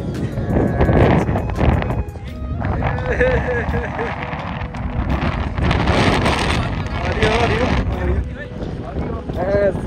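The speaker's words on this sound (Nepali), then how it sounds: "हावा चलिरहेछ हेर्न सक्नुहुन्छ" Gusty wind buffets and roars across the microphone throughout at a fair in Kuwait, loud and continuous, while people talk underneath.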